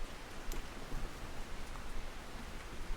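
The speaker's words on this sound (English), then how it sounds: "It is dark out and it's raining." Rain falling at night in the Russian Fishing video game, a dense, steady wash of droplets hissing across surfaces at moderate loudness, with no talk.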